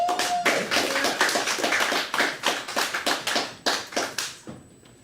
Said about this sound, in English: Please give a big round of applause to Harry E. Northup.